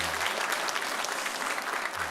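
A church congregation at a Korean Sunday worship service breaks into sustained applause, a dense, even wash of clapping hands with no break.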